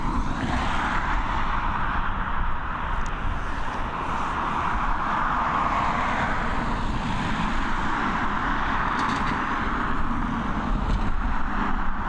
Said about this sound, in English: EI248 heading over to London Gatwick, this Airbus A320 operated by Aer Lingus